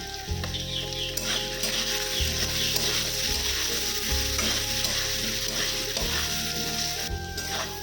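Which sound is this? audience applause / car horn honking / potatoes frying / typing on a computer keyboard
potatoes frying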